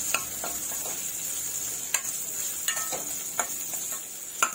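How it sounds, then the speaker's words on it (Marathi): Raw mango pieces sautéed in hot oil with cumin, mustard seeds, turmeric and fenugreek for a methamba pickle, giving a steady soft sizzle with scattered sharp clicks of a spoon stirring against the pan, no voices. "चांगलं त्या तेलामध्ये जिरं, मोहरी, हळद, मेथीमध्ये चांगलं आपण परतून घ्यायचं।"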